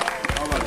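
A youth street-basketball crowd applauds the winning team with a short burst of claps and cheering, set against busy chatter and an announcer's voice.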